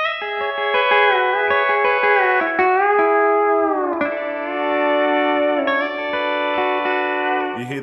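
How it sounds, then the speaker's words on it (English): A pedal steel guitar lick played without string blocking rings loud and close, with sliding, bending notes and many overlapping string resonances smearing together into a dense, sustained wash over about eight seconds. "you hear there's loads of string resonances and all that stuff."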